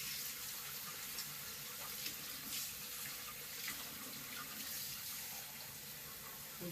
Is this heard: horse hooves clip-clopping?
no